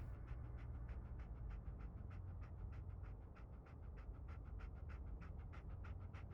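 Dogmeat, the dog companion in Fallout 4, pants rapidly and steadily up close, a rhythmic breathy huffing that continues throughout with no talk over it.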